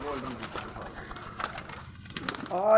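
Pet pigeons on a rooftop loft, one bird giving soft low coos in short runs while someone talks over them nearby.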